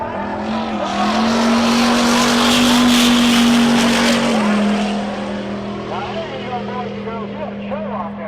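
A long-wheelbase 78-inch Chevy race car launches at a mountain race week, its engine a loud sustained roar that rises then fades as it pulls away, with a crowd or announcer murmur behind.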